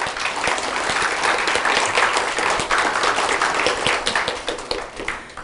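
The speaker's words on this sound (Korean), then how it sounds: "하나 둘 셋 하면 커팅하는데 여러분은 큰 박수를 쳐주시면 감사하겠습니다" Dense applause from an audience at a ribbon-cutting ceremony, a steady wash of many hands clapping close by, holding strong for several seconds before beginning to thin out at the end.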